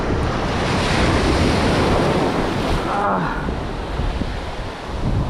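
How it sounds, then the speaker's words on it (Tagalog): Continuous roar of surf and crashing waves with heavy wind buffeting the microphone, steady and close throughout. "Malalaki yung alon."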